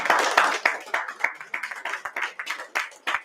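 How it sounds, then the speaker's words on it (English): An audience claps at an international business and management conference, steady close applause from a modest crowd with brief voices mixed in. "the clap should again continue"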